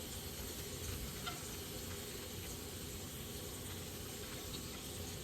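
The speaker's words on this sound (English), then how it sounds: "we're just going to baste the rest of the sauce over the salmon, like so" Orange tequila sauce sizzling in a skillet as it is basted over salmon: an even, continuous hiss with no breaks, close but fairly quiet.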